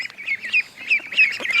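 Ducks on a farm quacking and chattering in a close, busy cluster, repeated nasal calls overlapping one another with no speech.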